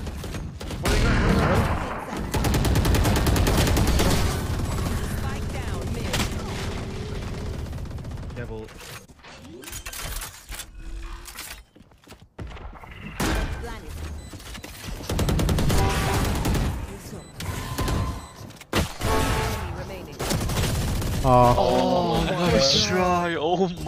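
Gunfire in a tactical shooter video game, dense rapid shots and bursts filling most of the stretch, with a brief lull midway, while players talk over it.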